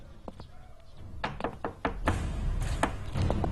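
Knuckles rap on the wooden door of a photographic studio at night, several close knocks in irregular groups over a low rumbling background.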